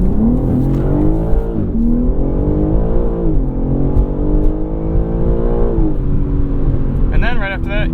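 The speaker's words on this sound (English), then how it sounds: "inline 6 coming out of this BMW M3." A 2021 BMW M3 Competition's inline six engine pulls hard through rising revs with a loud, close, raspy note, dipping briefly between gear changes and climbing again, with a faint tire chirp near the end.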